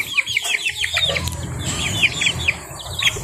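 A young stag rooster in a backyard poultry yard gives rapid, close clucking calls in quick trills over a low outdoor background, with no clear crow heard.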